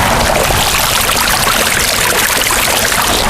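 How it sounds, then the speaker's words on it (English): Water from a Spruce five-stack cascade pondless waterfall falls over a series of drops into a pool, making a steady, dense, close splashing rush with no pauses and no voices. "You have water falling on water, which is where you get your most sound."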